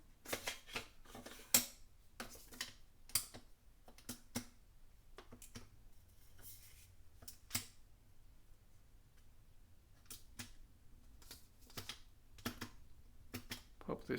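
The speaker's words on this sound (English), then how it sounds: "This magnetic clicking sound is super satisfying." Magnetic hex bits click into the bit holder of a compact Fanttik NEX S1 Pro electric screwdriver, giving a run of sharp, close, irregular clicks and small rattles with short pauses between them, fairly quiet throughout.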